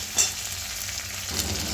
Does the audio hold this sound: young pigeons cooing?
no